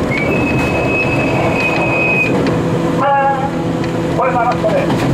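An electric train motor whirs and hums steadily up close, with a rising whine and rhythmic wheel clatter; people talk over it.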